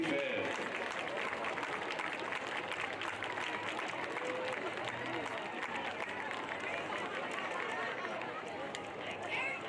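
Crowd applause at a high school football game, honoring military veterans: a sustained, dense wash of clapping and cheering from a large stadium crowd, steady throughout with a faint murmur of voices underneath.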